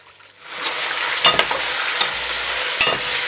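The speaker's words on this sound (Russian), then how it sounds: "Перемешиваем мясо." Meat for Samarkand plov sizzles loudly in hot oil, broad steady frying hiss with several sharp scraping stirs and clacks of the spatula against the pot, close and alone.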